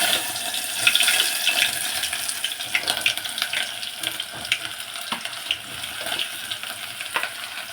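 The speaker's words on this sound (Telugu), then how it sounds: "ఆయిల్ అయితే హీట్ అయింది ఫ్రెండ్స్. ఇప్పుడు ఉల్లిపాయ పచ్చిమిర్చి అయితే వేసుకున్నాను." Onions and green chillies sizzle in hot oil in a pan for a milk curry, giving a steady, close hiss and crackle with small spitting bursts throughout and no voice.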